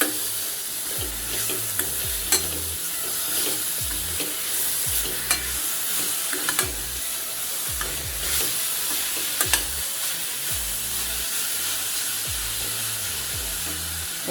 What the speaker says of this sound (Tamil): அடுப்பை சிம்மில் வச்சுட்டு இந்த நெய்யில் நல்லா வதக்கிடுங்க